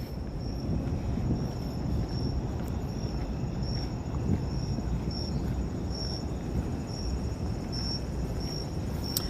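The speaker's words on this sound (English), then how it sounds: "We can hear the crickets." Crickets chirp in steady pulsing trills against a low, noisy background rumble of Manhattan at night, continuous throughout.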